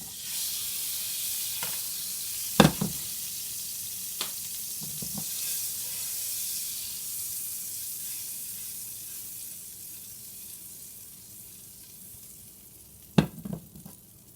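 Butter melts with a soft steady sizzle in a skillet lifted above the stove while eggs are whisked nearby, the hiss broken by a few sharp clinks and scrapes near the start and end.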